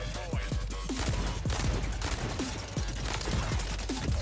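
Call of Duty: Modern Warfare III gunfire, with the TYR pistol among the weapons, loud sharp shots popping in quick, irregular succession throughout, close and continuous without any clear talking.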